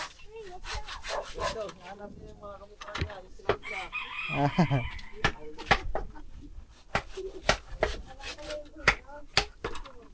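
Chickens in a video game cluck and crow among sharp scraping and rubbing sounds, a crow rising in the middle, with voices talking over the mix.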